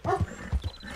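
Dogs in the video game Red Dead Redemption 2 give two short, close barks in quick succession, loud and unaccompanied by talk.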